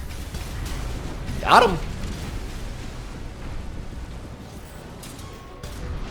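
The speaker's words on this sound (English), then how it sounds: "Just try for a bazooka shot right out the gate." A bazooka shot bursts once in a video game, a single sudden loud whoosh and boom over a steady game-noise bed, with a player talking over it.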